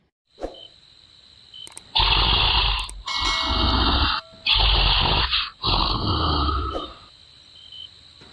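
A cartoon mother-in-law sleeps with her mouth open, giving out several long, loud, rasping snores in a row, each roaring breath separated by brief pauses.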